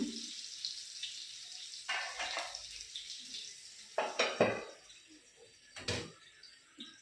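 A metal plate set down as a lid over fish frying in a pan, giving a few sharp clanks and scrapes between quieter kitchen clatter, with no talk.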